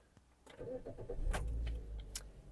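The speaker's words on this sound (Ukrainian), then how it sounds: "Тож вмикаємо запалювання та полетіли." A Ravon R2, a Chevrolet Spark variant, cranks and starts from inside the cabin, a short rising engine burst with a few clicks, fairly quiet and close.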